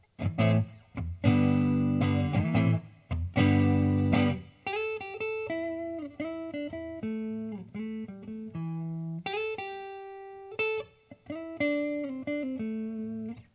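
Neck pickup of a Fender Red Dog electric guitar played clean without boost, strummed chords ringing full and then single-note melodic lines sustaining alone, close and clear with no talking.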